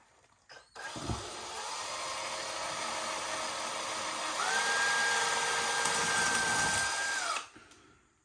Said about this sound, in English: joys of a hammer drill